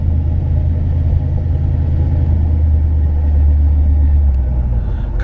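A 1960 Ford Thunderbird's engine rumbles steadily on a test drive, a loud, even low drone with road noise and no voices.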